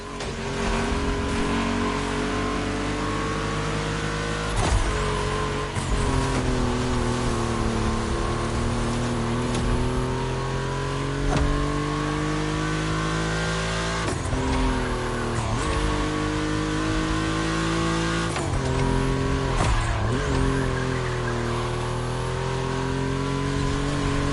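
Volkswagen race cars howl around a track, with a steady loud engine drone and rising and falling pitch as cars rev and pass, several brief sharper surges standing out.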